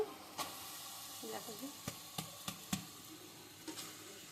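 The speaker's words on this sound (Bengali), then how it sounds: "এবার সিদ্ধ করা নুডলসটা দিয়ে দেবো" Boiled noodles stir-fried in a pan for chow mein, a soft sizzle under repeated sharp clicks and scrapes of a utensil against the pan, with faint voices briefly in the background.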